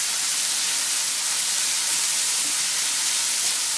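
Four ounces of frozen spinach hisses and sizzles steadily in a hot pan as it is stirred in, a broad, even, close-up crackle with no talk over it.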